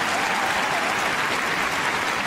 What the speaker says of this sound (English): Big cheer for Spitfire!